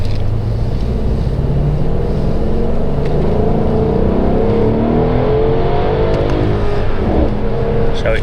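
A Mercedes S63 AMG 4Matic W222 sedan engine revs in manual mode in gear, its drone rising steadily toward the rev limiter and holding there, a continuous loud cabin roar throughout.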